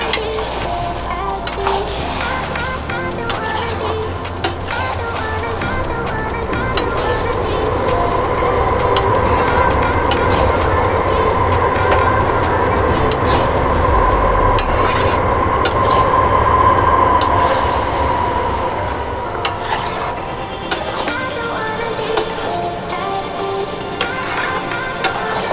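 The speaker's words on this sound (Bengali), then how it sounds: "ভালো করে নেড়ে নেব।" Cabbage and fish head curry is stirred in a pan with a steady scraping, sizzling hiss that runs continuously for a long stretch, close and moderately loud, with no voices.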